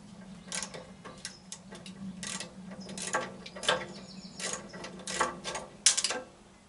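A ratchet with an extension clicks in short bursts while working on the main fuel filter of an LS MT125 tractor, close and fairly quiet ticking strokes at an irregular pace.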